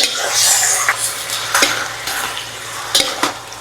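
About two kilos of beef ribs stirred in a cooking pot for beef caldereta, a close sizzle with a few scraping knocks of the spoon against the pot.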